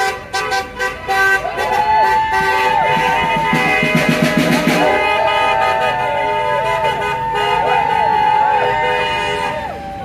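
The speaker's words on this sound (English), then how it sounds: "hard to get a word in edgeways when there's so much honking" Many car horns honk over and over at a large nighttime street protest in London, long toots overlapping with a crowd and traffic noise, loud and close, with a person talking through it.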